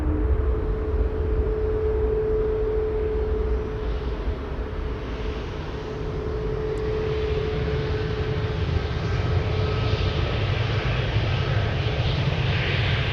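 An Embraer E2 jet at Amsterdam Schiphol Airport gives a steady, fairly loud engine roar with a faint whine, constant throughout without talk.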